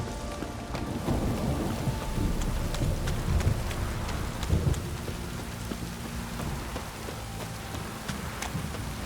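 Heavy rain pours down steadily, a dense hiss of drops with scattered sharp drips and low rumbling underneath.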